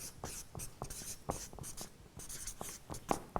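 Marker or chalk writing on a board, a string of quiet scratchy strokes and short taps in an uneven rhythm, with no talking over them.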